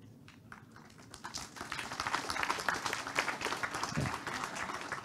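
An audience at a public discussion gathering breaks into applause, starting sparse and building to a fuller, steady round of clapping at moderate distance.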